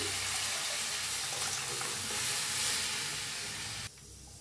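Buttermilk pouring into a pan of kadhi on the stove, a steady watery hiss and splash that runs unbroken for about four seconds before cutting off abruptly.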